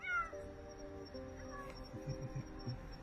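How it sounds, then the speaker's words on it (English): A small kitten hidden in bushes mews repeatedly, a string of thin, high cries in an uneven rhythm, fairly faint and close against soft outdoor background noise. "we heard this little kitten. It was in the bushes, and it was kind of making this noise like meow,"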